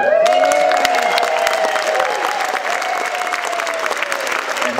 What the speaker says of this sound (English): give a little cheer for all the actors that couldn't get in